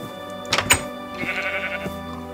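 A goat bleats twice in a Minecraft game, the short nasal cries close together and fairly loud, followed by a longer drawn-out bleat over steady game ambience.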